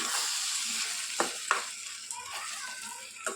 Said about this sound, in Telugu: ఇప్పుడు ఒకసారి బాగా మిక్స్ చేసేసుకుందాం.